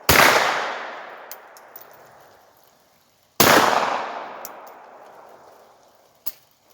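Two loud, sharp gunshots from a firearm with iron sights, several seconds apart, each with a long echoing decay, aimed at a small target 30 yards away in wet outdoor conditions.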